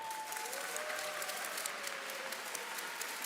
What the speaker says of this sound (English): I think that deserves a round of applause and a cheer